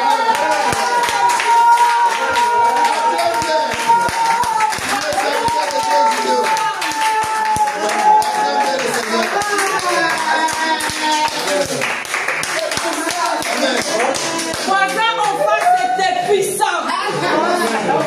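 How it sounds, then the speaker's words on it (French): A church congregation claps and acclaims during worship, with dense rhythmic clapping and cheering voices filling the whole stretch over music, loud and close throughout. "Julio, acclame le Seigneur."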